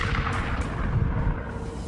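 A deep, rumbling explosion effect stands in for a red giant star blowing apart, a dense low roar that swells and sustains with rolling bursts through the short span.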